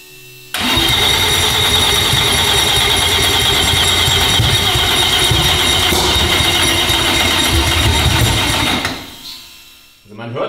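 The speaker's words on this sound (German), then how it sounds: "Man hört richtig, er will zünden, kann aber einfach noch nicht." Audi RS4 sedan engine cranking loudly and continuously for several seconds on the starter, trying but failing to fire, then stopping abruptly, with the churning drone heard close up.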